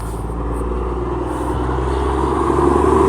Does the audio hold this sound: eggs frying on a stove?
no